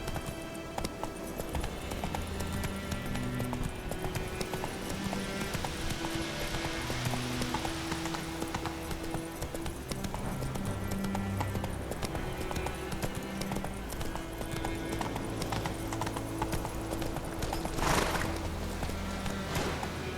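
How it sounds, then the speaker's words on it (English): Galloping horse hooves in The Witcher 3 video game, a continuous rapid clip-clop of a ridden horse over layered game music and ambience, with a brief whinny-like burst near the end. "Run, Roach"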